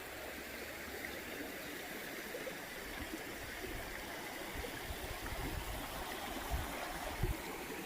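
Hillabee Creek in Alabama flows steadily over rocks, a continuous close rushing and gurgling of shallow water with a few louder splashes near the end.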